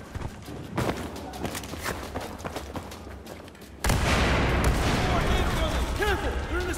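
Gunfire in the shooter Battlefield 4 during the first mission, a steady barrage of shots that gets louder partway through, mixed with battle noise and voices talking.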